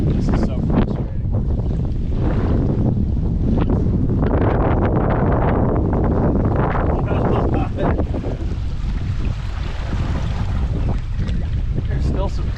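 Gusty wind buffeting the microphone over open water during a fly-fishing outing, broad loud rushing bursts that rise and fall continuously, with faint lapping and boat noise underneath.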